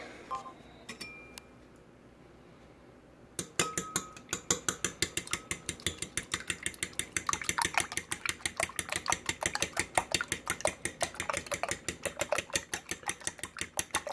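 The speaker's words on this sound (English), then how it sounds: "the key to scrambling eggs is just rapid clockwise rotation with the fork" A fork whisks raw eggs in a bowl outdoors at a barbecue grill, giving a fast, steady run of rhythmic clinks and taps that starts abruptly after a quiet stretch and keeps going to the end.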